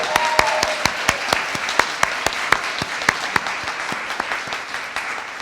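An audience at an annual meeting applauds newly elected advisors, a close wash of many hands clapping with sharp individual claps standing out in a loose rhythm, easing slightly toward the end.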